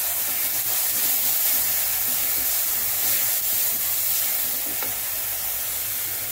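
Ginger garlic paste sautéing in a hot pan with ground tomato and green chilli paste for a pea masala sundal, a loud, steady, close sizzle and frying hiss that never lets up, with no talking.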